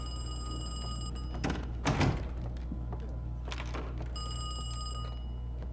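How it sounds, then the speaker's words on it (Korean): A telephone rings with a steady electronic bell tone inside the video game Call of Duty: Black Ops Cold War, sounding over an in-game background hum with a couple of thuds in between. "잘못 거셨어요 프레이야 아닌데요"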